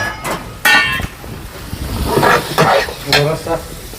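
Chicken frying in a pan is stirred, loud close scraping and sizzling strokes repeating in uneven bursts over a continuous frying hiss.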